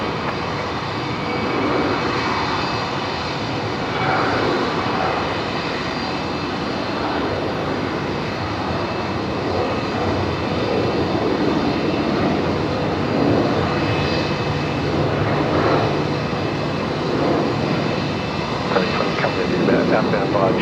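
An aircraft landing at Brisbane Airport at twilight, a steady roaring engine drone that holds throughout at moderate distance, with a voice talking over it.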